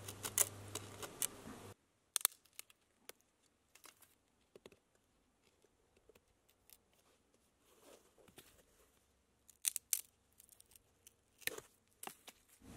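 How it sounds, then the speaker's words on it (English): A sharp obsidian stone blade cuts the tops off a wooden Y stick for a survival trap, heard as faint, scattered close scraping and snapping clicks in near silence after a brief louder opening. "I'll just cut off both tops of the Y stick."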